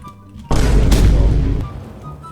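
A single heavy grenade blast in the video game Rivals, a sudden loud boom with a rumbling tail that fades over about a second amid quiet game ambience.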